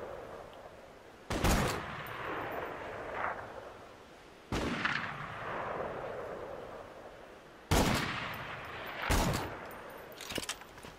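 An ally's weapon firing in Borderlands 2: about five heavy, booming shots spaced a few seconds apart, each with a long rumbling tail, loud and close with no talking.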